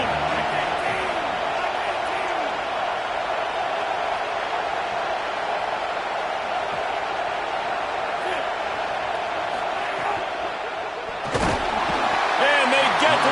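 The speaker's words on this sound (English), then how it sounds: "And listen to this crowd." A stadium crowd in a college football video game keeps up a loud, steady roar throughout, with a brief thud near the end and the noise swelling slightly afterward.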